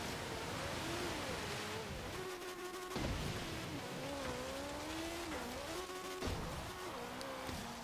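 A 2014 BAC Mono racing car in Forza Horizon 3, driven off-road at high speed, its engine note climbing and dropping through gear changes in a steady loud drone with rough hiss of terrain underneath.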